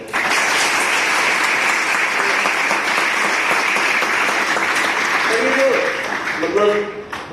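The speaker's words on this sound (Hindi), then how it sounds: "तो सर के लिए एक बार तालियां।" College students in a hall break into sustained, loud applause that holds steady for several seconds, then thins out with a few scattered claps and some voices at the end.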